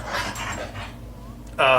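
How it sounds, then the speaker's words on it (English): A dog whimpers and pants close by, soft whining breaths for most of the moment before a louder burst near the end. "sorry, dogs distracting"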